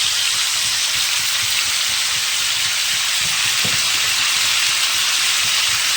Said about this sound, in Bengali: আর তেলার একটু হলুদের গুঁড়ো ভালো করে ভাজা ভাজা করে নেব।